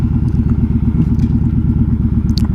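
A motorcycle engine revs hard while the bike sits stuck in deep loose stones, a loud, steady pulsing drone with faint clatter on top.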